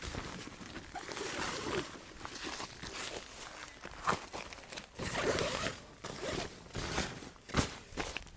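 Zipper of a canvas bivy bedroll being pulled open in long rasping runs, close and repeated, with fabric rustling and handling noises between pulls.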